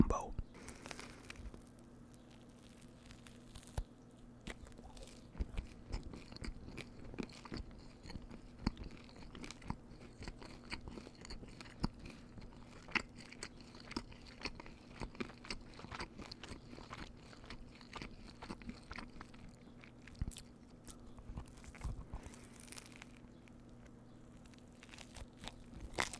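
Someone eats a Dunkin' Donuts bread and cheese breakfast sandwich, with close, soft chewing and occasional crunchy bites continuing steadily over a low background hum.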